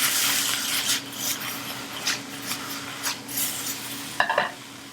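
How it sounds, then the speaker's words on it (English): Bok choy and other vegetables sauté with tamari in a pan, a continuous hiss and sizzle broken by several scraping shuffles as the pan is moved and tossed, ending with a sharper clatter. "I'm just moving the pan a little bit and give it a little toss"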